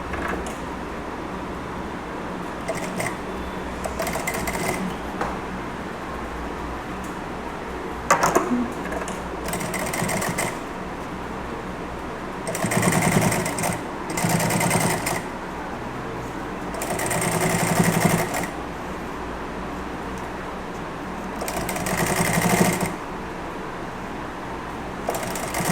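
A sewing machine runs a fine, narrow seam along a lace designer neckline, in several separate bursts of close rattling stitching with short pauses between them.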